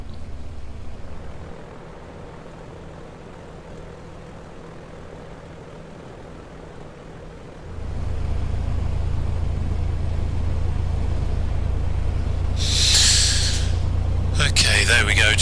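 A simulated Piper Comanche 250 engine idling near 1000 RPM while warming up, with a low steady propeller drone that steps up in loudness partway through, plus brief high clicks near the end.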